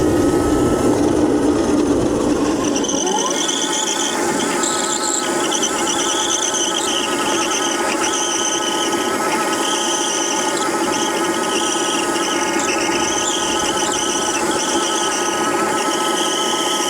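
A crazy cart's tire squeals and smokes in a long continuous rubbery screech over a buzzing electric motor whine, loud and close throughout with shifting pitch, and no talking.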